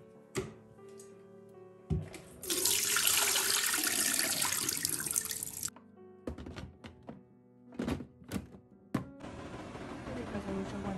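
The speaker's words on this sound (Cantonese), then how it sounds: "倒水。" Water is poured at home: a few thumps, then a steady gush lasting about three seconds, followed by scattered knocks and clunks.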